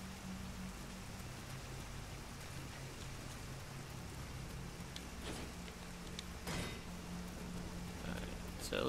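Rain falling in the video game Nioh, a faint, steady hiss of drops with a low hum underneath and a few soft patters, no talking.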